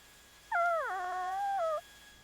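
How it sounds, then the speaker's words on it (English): A lost puppy gives a single drawn-out whimpering whine lasting about a second, clear and close against quiet background, pitch sliding down then holding steady before stopping. "Oh, a puppy."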